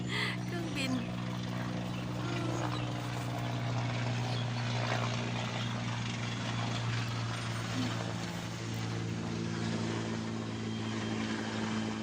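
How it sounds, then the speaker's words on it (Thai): An airplane passes overhead outdoors, a steady broad engine drone with low propeller-like tonal hum lasting throughout, fairly loud and continuous under a voice. "เครื่องบินมาพอดี"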